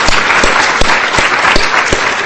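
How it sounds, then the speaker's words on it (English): Audience at a roundtable event applauds steadily with dense clapping and a few sharp, distinct claps, close and fairly loud. "A round of applause"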